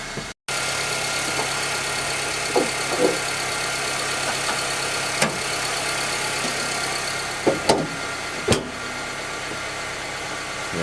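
A 2010 Honda Civic engine idles steadily with a low, even hum, broken by a few faint ticks and light clicks from the injectors that stand out briefly over the drone.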